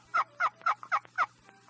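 Five evenly spaced turkey yelps played on a friction box call, each a short raspy two-tone note, loud and close with brief gaps between them and no talking.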